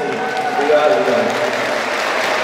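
Audience at a live music show at an expo clapping in a dense, steady wash of applause that holds at an even level throughout, with cheers blended in.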